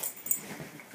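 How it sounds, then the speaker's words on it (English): Two dogs playing together, giving a short burst of whimpering and yipping whines, close by and fairly quiet. "What are you two bonkers dogs doing?"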